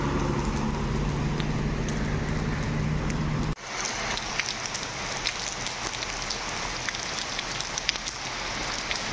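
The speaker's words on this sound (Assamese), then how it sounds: "চাওক কেনেকুৱা বৰষুণ" Heavy monsoon rain pours in a continuous, loud hiss on nearby surfaces. A brief shift in tone midway, then steady downpour with scattered drop patters and no speech.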